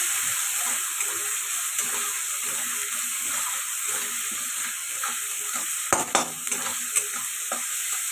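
Spices for pointed gourd (potol) korma sauté in hot oil, a steady bright sizzle with soft scraping stirs throughout and a couple of sharper clinks of the spatula against the pan near the end.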